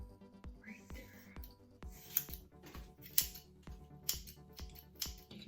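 Scissors snip through hair during a home layered haircut, a run of sharp, close metallic cuts spaced about every half second, with faint background sounds between them.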